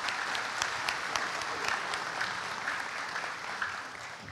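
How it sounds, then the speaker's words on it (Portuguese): Audience applause welcoming a union president at a lecture-series event, a dense, steady clapping from a crowd that holds at an even level throughout with no voices over it. "Uma salva de palmas que está acolhendo todos nós aqui hoje."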